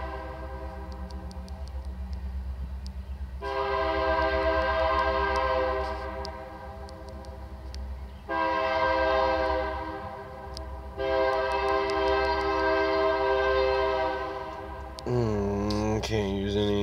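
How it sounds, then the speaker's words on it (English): A passing train sounds its horn in several long, loud blasts over a steady low rumble of rolling wagons, heard at moderate distance with no talking. "There goes the train."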